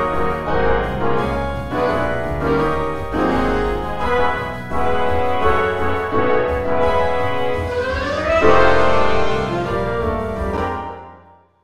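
A big band arrangement of a swing tune played back by notation software, dense brass and saxophone chords over a steady rhythm section, mechanically even and full, ending in a rising swell and a held chord.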